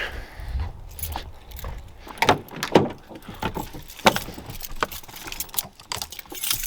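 Keys jangle and clink in short bursts while the right one is picked out for a Dodge Dakota, close and moderately loud, with scattered metallic taps over a low background.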